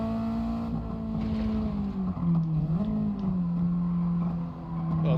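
A race car engine in Gran Turismo 7 drones loudly up close, its pitch dipping and then climbing again as it revs.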